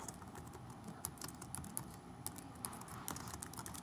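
Typing on a computer keyboard while writing a discussion post, a quiet run of uneven key clicks with a few sharper taps, steady and close with no voices.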